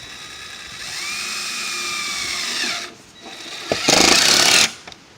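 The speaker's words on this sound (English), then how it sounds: "Put screws all the way around it. Right beside the rib first." A power driver whines steadily, its pitch rising and falling, then a loud, harsh burst as a screw bites through metal roofing beside a rib on a mobile home roof replacement.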